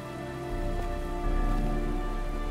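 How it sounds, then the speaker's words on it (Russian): Steady rain in the video game Heavy Rain patters continuously over a dense background hum, moderately loud and unbroken throughout. "никак не хочет прекращаться дождь"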